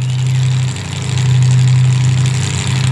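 Boat engine running at slow trolling speed on Webbs Slough during a race, a steady low droning hum that stays loud and continuous throughout with slight dips in level.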